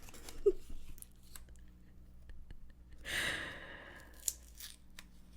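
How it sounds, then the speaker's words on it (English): Paper playing cards from a deck are torn apart in a quiet room, a soft rip swelling in the middle, with scattered faint crinkles and breathy sounds around it. "Sorry for the, like, paper gore that you're hearing."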